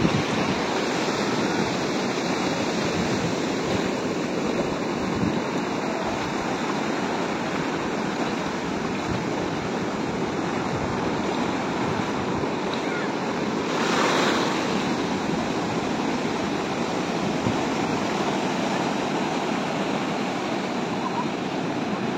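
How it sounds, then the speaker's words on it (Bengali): Big sea waves roar onto Patuartek beach near Cox's Bazar in a constant, loud surf wash with wind buffeting the microphone, running unbroken for over twenty seconds without any talk. "সাগরের গর্জন শোনা যাচ্ছে, বড় বড় ঢেউ।"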